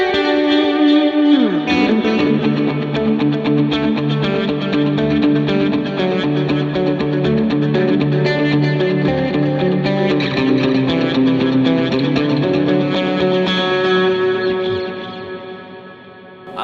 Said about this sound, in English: Add the reverb, add a little lead tone.